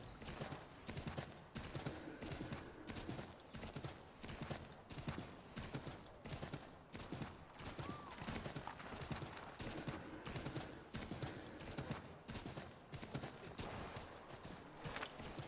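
Horse hooves from the video game Assassin's Creed III, a steady fast clip-clop rhythm of galloping hoofbeats that continues throughout, loud and close, with faint game ambience and no speech.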